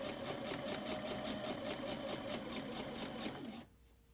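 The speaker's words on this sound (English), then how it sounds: "So I'm just stitching down the middle using a regular stitch." A sewing machine runs stitching down ribbon on a suitcase passport cover, a steady even rattle of rapid needle strokes for several seconds before it stops, leaving a faint hum.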